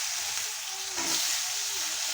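Potatoes and drumsticks fry in hot oil in a wok, a steady close hissing sizzle that swells briefly midway and stays even to the end.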